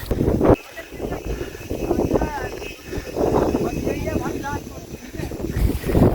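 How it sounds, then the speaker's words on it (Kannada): Strong wind gusts across a hilltop at Ranipuram, buffeting the microphone in rough bursts while people talk over it. "ಹೆಚ್ಚಿನ ಗಾಳಿ"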